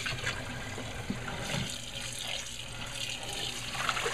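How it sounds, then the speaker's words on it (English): Water runs steadily from a tap in a constant hiss, with faint clinks and splashes. "I got cold water going on it."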